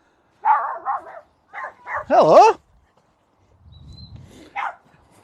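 A dog on a walk through a nature reserve barks at another dog in a quick burst of several loud, shouty barks and yelps, then a single bark later, with a brief spoken greeting nearby.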